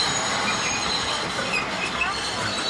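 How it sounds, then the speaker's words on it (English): An Amsterdam tram passing by on a grey late-winter city street, a steady rolling rumble with squealing wheels and rail clatter, fairly close and continuous throughout. "Blue trams and yellow trams, and blue and yellow trams"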